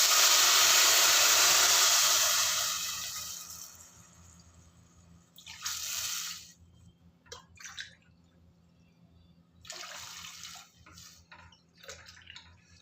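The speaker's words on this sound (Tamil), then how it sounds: "இதுக்கு தேவையான தண்ணி விட்டுக்கலாம் சாத்துக்கு" Water pours steadily into a pot of rice for a couple of seconds, then trails off into quieter intermittent splashes and trickles, close and clear with no talking.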